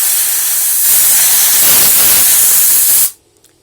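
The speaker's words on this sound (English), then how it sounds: "if we just blow some compressed air on this" A loud, steady blast of compressed air hisses onto a hot transistor inside a Pioneer CT-7100 cassette deck for about three seconds, then cuts off sharply into near silence.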